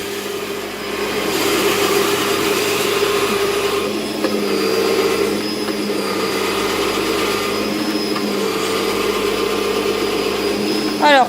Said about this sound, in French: Plus qu'à les prendre, à les mettre dans le robot. Hop, on allume.